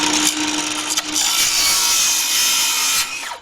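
Handsaw cutting through wood while building a bed frame for a van, a steady close rasping stroke sound that runs continuously for a few seconds, with a brief pause near the start and a tapering end.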